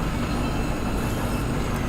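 A tram in the video game Kentucky Route Zero runs on broken tracks, giving a steady loud rumbling rail drone with a faint squeal, continuous throughout and no voices.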